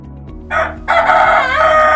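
An Ayam Cemani rooster crows loudly and close by, with one short call followed by a longer, sustained crow that carries to the end.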